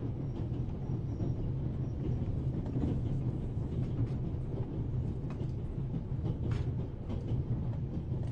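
A moving train carriage rumbles steadily from inside, a dense low roar with faint rhythmic clicks from the rails, continuous throughout and without voices.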